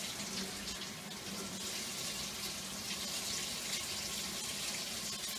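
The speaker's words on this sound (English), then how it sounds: "and that's all I'm going to do is 1 cup of water, nice and warm" Warm water runs steadily from a kitchen tap while bread dough is being prepared, producing a constant close hiss and splash with no pauses.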